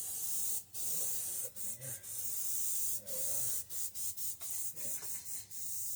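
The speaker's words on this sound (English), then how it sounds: "Airbrushing in oils, different." Airbrush spraying oil paint onto a painting, a steady close hiss broken by several short pauses and quick on-off bursts.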